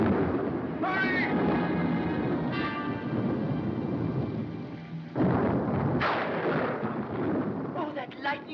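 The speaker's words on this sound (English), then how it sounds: "Oh, that lightning. She was always afraid of lightning." Heavy rolling thunder from a lightning storm rumbles loudly and continuously, with sharper cracks breaking through and a steady wash of rain underneath.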